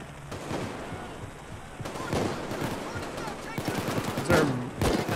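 Gunfire during a loud diamond heist in PAYDAY 2, a steady stream of sharp shots and bursts layered with game noise, with players talking over the shooting.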